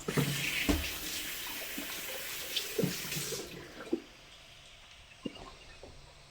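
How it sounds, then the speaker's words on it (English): Vegetables for Thai som tam are rinsed under a running kitchen tap. Water gushes loudly for a few seconds, then cuts off, leaving quieter drips and handling clatter close by. "I'm just going to give these a quick wash."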